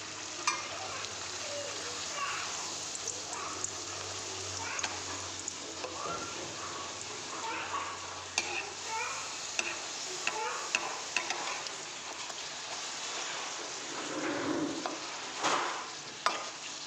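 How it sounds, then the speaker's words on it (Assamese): Luchi bread fries in hot mustard oil in a wok, a continuous soft sizzle with intermittent clicks and scrapes of stirring, fairly quiet, with occasional speech. "মিঠাতেলতে ভাজিছোঁ।"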